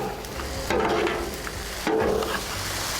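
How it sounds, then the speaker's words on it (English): Beef and broccoli in sauce sizzle on a Blackstone griddle while being stirred and mixed, a steady frying hiss broken by two louder scraping tosses of the spatula. "And now it's time to mix it and then plate."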